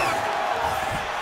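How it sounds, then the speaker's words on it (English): In the UFC 5 fighting game, an arena crowd roars in a dense, sustained wash of cheering and whooping during a bout between Khamzat Chimaev and Mike Perry, loud and continuous across the short stretch. "An appreciative crowd obviously getting behind both fighters."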